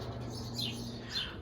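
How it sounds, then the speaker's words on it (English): Birds chirp in a backyard garden with a blossoming tree, two clear rising-and-falling calls standing out over a soft outdoor hum. "I don't know if you guys can hear me over the birds."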